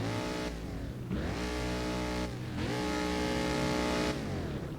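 In the Driving Empire video game, a Mustang launches at a drag race start against an Audi R8, its engine revving hard in rising sweeps through the gears, each pitch climb cut by a brief drop at the shift.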